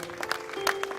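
Brief burst of scattered hand claps from an audience at an Enrico Marchiante orchestra event in Jesolo, fairly close, with a steady tone underneath.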